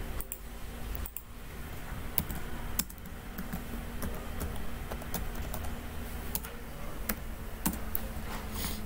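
Rapid keyboard typing on a computer, with keyboard shortcuts pressed in a steady run of close, crisp key clicks. Programming work under Ubuntu sets the scene, and no one speaks.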